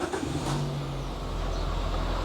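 A 2016 Daihatsu Sirion facelift car engine starts and settles into a steady low idle, loud and close, heard alone without talk.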